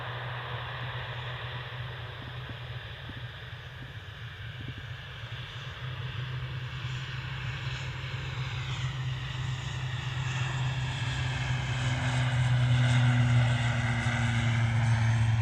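An airliner departing from Manchester Airport builds from a low rumble into a louder, nearer jet roar with a rising engine tone toward the end, heard alone without speech.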